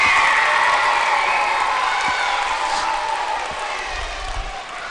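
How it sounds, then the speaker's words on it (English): A school crowd applauds and cheers for three fourth grade teachers, a loud, dense wash of clapping with shouts and whoops that gradually tapers off. "Let's give them a big round of applause"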